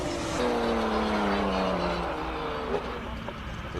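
A VR6-powered first-generation Lotus race car at a hillclimb, its engine droning steadily at a distance with a rising then falling tone, loud and continuous with no talk over it.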